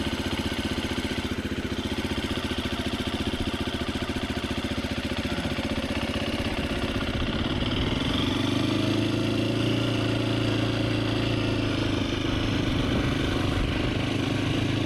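Husqvarna FE350S dual-sport motorcycle idling as it warms up, a steady close mechanical putter that rises slightly in pitch partway through and holds, no talk.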